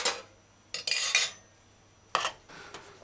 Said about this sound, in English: stir your pot in. I like to do the stir your pot up, stir it in